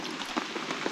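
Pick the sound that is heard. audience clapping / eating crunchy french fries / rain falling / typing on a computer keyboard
rain falling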